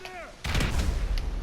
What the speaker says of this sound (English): Let me see if I can use the sticky bomb to... Let's put it right on that.